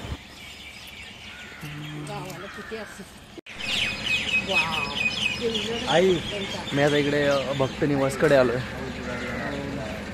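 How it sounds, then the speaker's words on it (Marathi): Morning birdsong and chirps around a pilgrim lodge in Shirdi, bright repeated calls scattered through the air while someone talks over them for most of the stretch. "पक्ष्यांचा किलबिलाट देखील चालू झालेला आहे."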